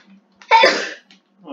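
A single sharp sneeze bursts out at close range, a loud breathy explosion lasting about half a second, framed by brief quiet breaths, with a faint voice starting afterward.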